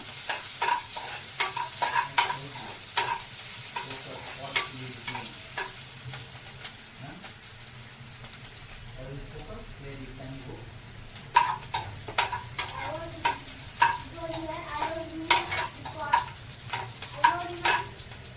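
Green chilli pieces frying in hot oil, with a steady sizzle under frequent close scraping and tapping strokes of a spoon against the pan, sparse at first and busier toward the end, with no speech.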